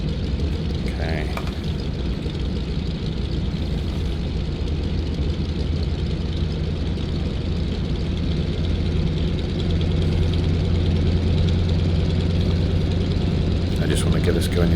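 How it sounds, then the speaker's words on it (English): The piston engine of a de Havilland Beaver floatplane in the X-Plane 11 flight simulator drones in a steady, low, continuous hum at even loudness, with brief speech heard over it. "Listen to that engine. It sounds so real."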